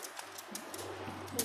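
A young racing pigeon coos softly while held in someone's hands, a faint, low, brief murmur against a quiet background.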